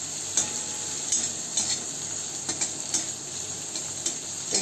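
Bombil fish frying in oil in a kadhai while being stirred, a steady bright sizzle with regular scraping clicks of the spatula against the pan, close and alone.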